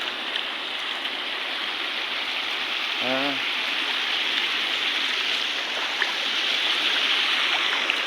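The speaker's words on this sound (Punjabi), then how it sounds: "ਕਿਵੇਂ ਆਵਾਜ਼ ਆਉਂਦੀ ਆ ਪਾਣੀ ਦੀ" Heavy rainwater runs across a stretch of road, giving a steady, broad rushing wash that holds even throughout, with one brief tonal blip partway through.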